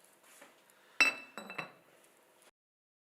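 A lid is closed on a glass jar of tomato pickle: one sharp, close glassy clink, then two softer knocks a moment later, followed by faint handling in an otherwise quiet room.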